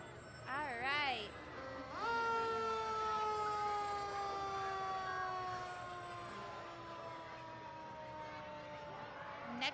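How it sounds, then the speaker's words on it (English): A fire truck siren wails at a Christmas parade, starting with a rapid yelp and then settling into a long steady rising-and-falling tone, somewhat distant under crowd noise and people talking nearby. "those sirens, you can't help but just look at them"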